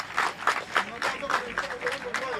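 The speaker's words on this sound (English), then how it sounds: "So the Spanish team is cheering for the crowd" The Spanish baseball team claps and cheers toward the crowd at the end of a Men's Baseball European Federation Cup final, with rhythmic clapping about every quarter second and a commentator talking over it.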